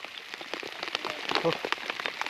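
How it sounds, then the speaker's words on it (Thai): Heavy rain in a forest patters steadily on a surface with scattered distinct drops, a soft, dense crackle with no voices. "ลำบากพี่น้องฝนตกฝนตก"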